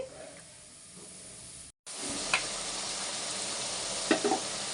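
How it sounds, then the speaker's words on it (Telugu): Food frying in a clay pot for a mullet fish curry gives a steady close sizzle and hiss, broken by a brief silent gap partway through, with a few soft stirring scrapes and pops. "వేగించుకుందామండి"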